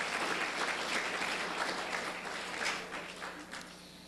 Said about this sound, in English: I'd like to give them a round of applause just for that.